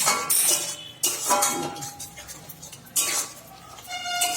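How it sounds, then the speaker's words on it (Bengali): Ridge gourd paturi masala being sautéed in a pan with a pinch of sugar, heard as close clinks and scrapes of a spatula against the pan in irregular bursts, with no talk. "সুন্দর করে এটাকে কষিয়ে নিচ্ছি"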